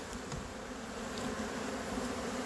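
A swarm of honeybees clusters on fresh comb inside a hive box, giving a dense, steady buzzing drone close by with no pauses.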